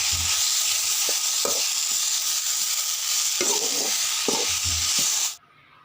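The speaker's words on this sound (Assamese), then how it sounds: "ঢেকীয়া ভাজি" Fiddlehead fern greens sizzling in a pan, with spatula stirring and scraping over a steady frying hiss that cuts off abruptly near the end.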